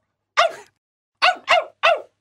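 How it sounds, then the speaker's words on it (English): A dog gives four sharp, close barks, one alone then a quick burst of three, with clear silence between and no talking. "Gelert looked at his master and barked happily."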